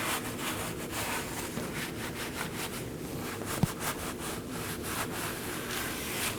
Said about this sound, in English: be cleaning the face of the knuckle with a wire brush